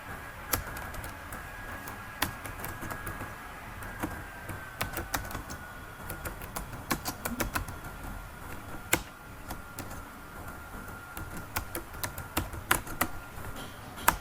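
Someone types an email address on a computer keyboard: quick, uneven runs of crisp key clicks with short pauses, close and clear, with no talking.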